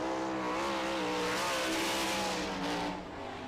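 A sprint car roars through a qualifying lap at Wilmot, its engine a loud, sustained high-pitched howl with wavering pitch as it accelerates around the track, steady for about three seconds before easing slightly.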